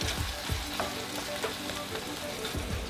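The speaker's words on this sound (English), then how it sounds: "add in some whole canned tomatoes and just crush everything in the pan" Ground beef with whole canned tomatoes for moussaka, sizzling and frying in a pan while being crushed, with steady close crackle and a few stirring scrapes throughout.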